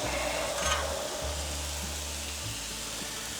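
Chicken fried rice cooks on a Blackstone griddle with a steady, continuous broadband sizzle and hiss, along with low background hum throughout.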